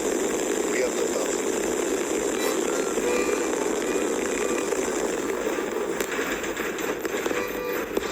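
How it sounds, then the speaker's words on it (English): SpaceX rocket lifting off from Pad 2, its Raptor engines firing in a dense, steady, continuous roar that stays loud and constant throughout, with a commentator's voice faintly under it. "We have liftoff."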